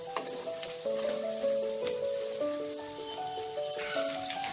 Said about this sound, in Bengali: এই গাজর আর ক্যাপসিকামটা জাস্ট 2 মিনিটের মতো একটু নাড়াচাড়া করব, খুব বেশি ভাজবো না